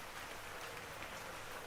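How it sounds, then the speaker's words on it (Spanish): Steady rain pours down on a city avenue near an old gate, a dense, even hiss that holds without break for the whole stretch, faint and wide with no voices. "El sirviente escuchaba abstraído el ruido de la lluvia"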